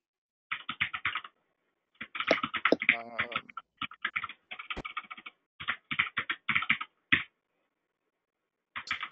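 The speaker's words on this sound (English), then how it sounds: "There's some typing being heard, kind of." Fingers type on a computer keyboard in quick clustered bursts of crisp clicks separated by short pauses, close and fairly quiet, with a brief voice-like sound mixed in near the start.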